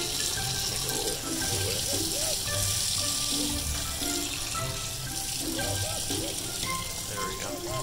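Water runs steadily from a faucet into a sink where a baby toucan is playing, a constant close splashing rush with faint chirps and squeaks from the bird mixed in.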